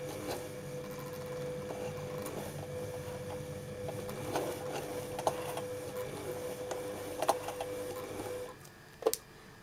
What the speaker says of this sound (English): first I'll try to do some to lock it by make some reverse stitching here